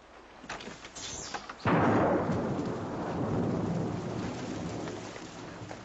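Steady heavy rain pours down after a sudden onset in a TV war drama scene, with a sharp crack and rumble at the start, loud and continuous with no voices.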